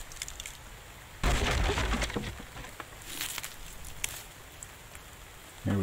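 Rain falling in the survival video game The Infected, a steady hiss that swells into a loud heavy downpour with crackling drops, then eases back and surges again at the end.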